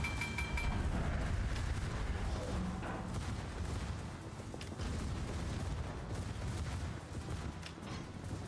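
A torpedo strikes a ship in a naval video game, its explosion rolling into a dense, sustained roar of booming blasts and gunfire-like crackle that stays loud and continuous throughout.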